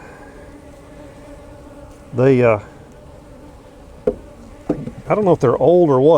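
Honey bees buzz loudly close to the microphone in short wavering bursts, interrupted by a sharp knock, with someone speaking in between.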